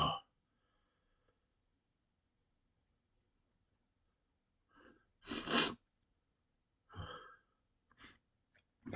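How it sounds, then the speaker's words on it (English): A man's sneeze bursts out loud and close after a long silence, with a sharp broadband burst followed by gasping breaths and short vocal noises. "God, I still have to sneeze so bad."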